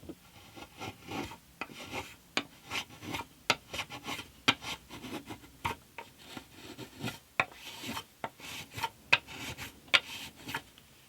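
Rasping strokes of an acoustic guitar body being sanded on a radius dish during a build, steady back-and-forth scrapes in an irregular rhythm, close and fairly quiet with no talking.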